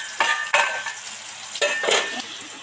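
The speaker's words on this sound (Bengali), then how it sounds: "এবার 2 মিনিটে 3 মিনিটের জন্য ঢাকা দিয়ে ডিপ ফ্রাই করে ভাজতে থাকবো।" Bitter gourd (ucche) deep-frying in oil in a pan gives off a close, steady sizzling hiss, broken by a few sharp clanks and scrapes of a utensil stirring against the metal.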